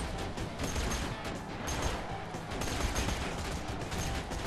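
Deployed turret firing in the video game Borderlands 2, a dense continuous clatter of gunfire and impacts that fills the whole stretch at steady loudness.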